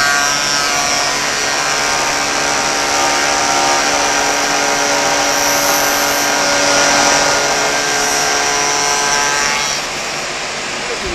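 A moulding cutter machines wood for a pedestal desk: a loud, continuous high-pitched whine with a steady hum, holding level before easing slightly near the end, no talking.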